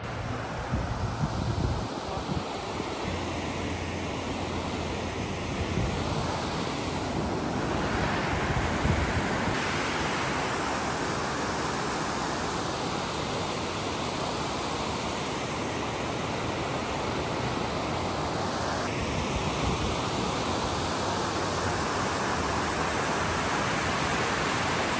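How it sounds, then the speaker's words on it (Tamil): River water flowing beside a park in Easton, a continuous broadband rush like steady surf, moderately loud and unbroken, with some wind buffeting the microphone near the start. "அந்த தண்ணியோட சத்தம் கேட்கவே ரொம்பவே சூப்பராக இருந்தது."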